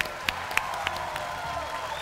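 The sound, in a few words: audience applause for a team at a concert show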